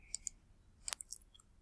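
A computer mouse clicks a few times in a quiet room: two faint, sharp clicks early on, then a louder click near the middle, followed by softer ticks.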